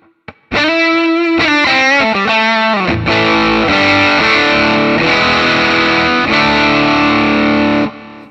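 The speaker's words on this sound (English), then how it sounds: "We have a, yeah, there we go. A spring reverb." Electric guitar run through the spring reverb of a Harley Benton DNAfx GiT multi-effect processor, a loud distorted chord riff with a sustained, splashy reverb tail, played alone and ringing out over about seven seconds.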